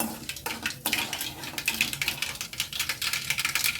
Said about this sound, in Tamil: கடுகு வெடிக்க ஆரம்பிச்சிச்சு.